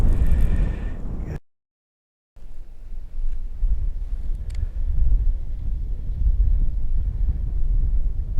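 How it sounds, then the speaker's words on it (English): Wind buffets a microphone out on a lake during crappie fishing, a loud, rough, continuous low rumble broken by a brief total dropout, with no one speaking over it. "I can't wait to get out of this wind."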